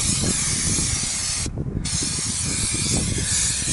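Anti-gravel anticorrosion coating (Mastervax) is sprayed onto a car's wheel arch. It makes a close, steady, rushing hiss that breaks off briefly midway and then carries on, with no voices.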